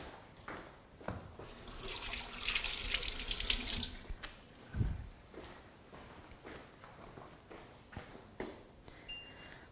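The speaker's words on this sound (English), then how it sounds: "I'm just going to go and wash my hands." A tap running in a kitchen sink while hands are washed, a steady hiss of water for a few seconds, then quieter splashes and drips, faint and close.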